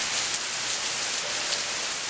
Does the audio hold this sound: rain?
yes